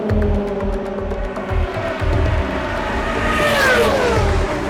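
Indy race car engine at the Indy Grand Prix, a loud sustained high-revving drone with rising and falling pitch as the cars pass and shift gears, steady throughout with no talk.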